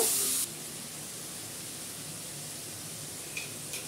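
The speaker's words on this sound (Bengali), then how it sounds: "তেলের মধ্যে কালো জিরা ফোড়ন দিলাম, তারপরে এই যে মশলাটাকে আমি পেস্টটা বানিয়ে রেখেছিলাম সেই পেস্টটা দিচ্ছি" Spice paste with nigella seeds sizzles in hot oil, giving a steady, close, hissing crackle that stays loud throughout after a brief sharper burst at the start. No one speaks.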